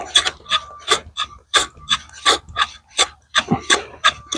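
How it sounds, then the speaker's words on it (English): A hand plane pushed across the end grain of a wooden slab to flatten it, giving repeated rasping strokes in an uneven rhythm, close and fairly loud with no talking. "now what I've got is just my hand plane, and I'm just going to go across this and try to get this flat"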